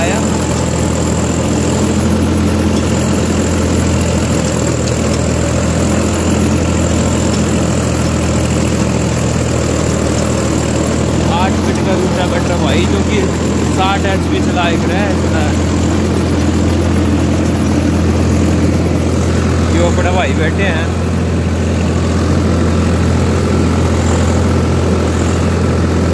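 Swaraj 744 XT tractor, 60 HP, in first gear of the medium range, runs with a constant heavy diesel rumble close by, while a voice breaks in briefly over the engine a couple of times.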